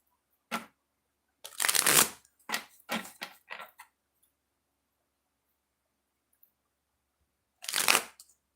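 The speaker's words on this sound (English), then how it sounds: "3 shuffles and then we'll get started" Several quick riffle shuffles of an oracle card deck, each a short papery burst, grouped close together, then a pause before one last shuffle.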